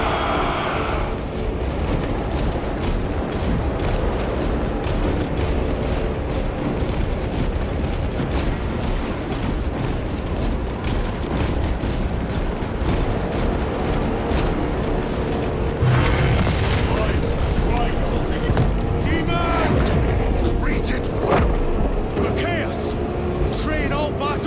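Artillery fire and explosions roar through a Warhammer 40,000: Space Marine 2 battlefield as a constant loud rumble of blasts and booms, with voices shouting orders over the din.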